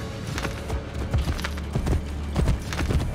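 Horse hooves clip-clopping in Assassin's Creed Brotherhood, a steady rhythmic series of hoofbeats at a brisk pace, moderately loud and alone, with some ambient game sound underneath.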